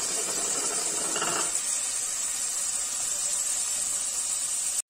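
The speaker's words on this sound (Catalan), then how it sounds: "I ara hi tiraríem la tomaca, perquè ja està l'all sofregidet en companyia del julivert i la ceba." Tomato hitting a pan of gently sautéed garlic, parsley and onion sets off a steady, close broadband sizzle that holds evenly throughout, with no voices.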